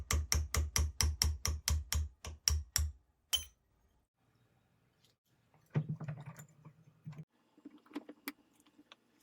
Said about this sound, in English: I can tap out the mainspring.